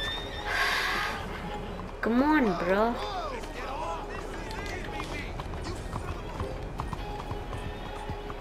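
Hooves of a galloping horse in a video game drum in fast clip-clop rhythm beneath a voice, with a whinny rising in the middle and steady hoofbeats continuing after.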